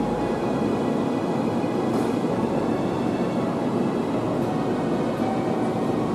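A local train on a conventional line in Japan rumbles steadily as it pulls away, a continuous rolling roar of wheels and motors, close and loud, with no talking.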